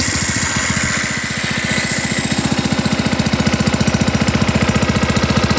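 A vacuum pump engine starts and settles into a steady, loud idle, its fast even chugging beats close by and alone, with no talk.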